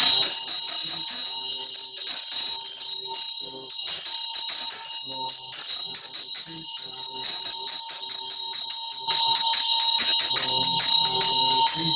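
A ritual bell rung during Green Tara practice, its bright sustained ringing repeated steadily and loudly throughout, growing slightly stronger near the end, with no voices.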